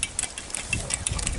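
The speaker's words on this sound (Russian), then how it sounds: "Разжечь паяльную лампу" A blowtorch roars outdoors in wind with an uneven, sputtering rumble, its flame noise fluttering and pulsing over a short stretch, close by.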